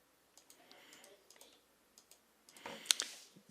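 Keys tapped on a keyboard while something is typed into the Word app: sparse, light clicks at first, then a denser, louder burst of quick keystrokes near the end.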